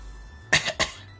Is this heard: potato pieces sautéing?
no